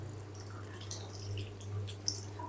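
Boiled chana dal with its cooking water poured into a pot, a soft continuous liquid trickle with light splashes and a low steady hum underneath.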